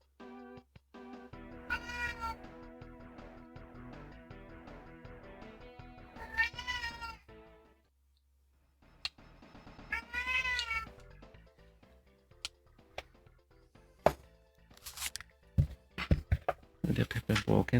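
A pet cat meows several times over game music, with a few distinct mewing calls standing out clearly against a steady musical background.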